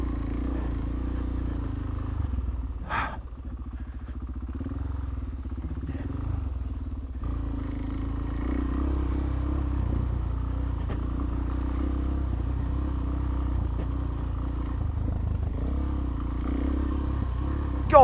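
A Suzuki DRZ motorcycle rides a rough green lane, its engine a steady low drone throughout with a brief clatter near the start, no talk heard.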